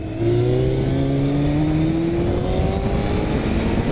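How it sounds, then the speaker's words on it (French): A 2002 Yamaha Fazer 600 FZS motorcycle engine revs up hard and close, its loud, climbing whine rising smoothly over a few seconds with no talking. "une moto qui chante"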